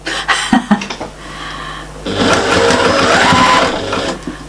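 A sewing machine stitching fabric for a patchwork and appliqué cushion: a few short clicks and handling noises, then a loud, steady mechanical whirr of fast stitching for about two seconds, close by with no talking.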